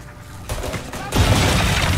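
A video game explosion in Mafia Definitive Edition bursts out after a crackling lead-in, then becomes a loud, sustained roaring rumble.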